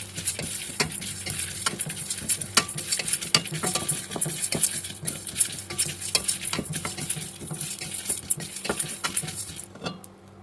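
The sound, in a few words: stirring roasting dal, pepper, chillies in pan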